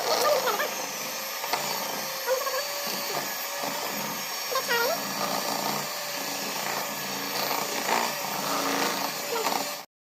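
Electric kitchen grinder churning cream into butter, a continuous motor whine and whir running nearly ten seconds with slight wavering pitch, under a faint voice, then cutting off abruptly.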